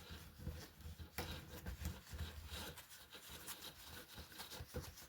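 A diamond painting canvas being rolled up, producing continuous close rubbing and scraping with soft crinkly bursts, fairly quiet throughout.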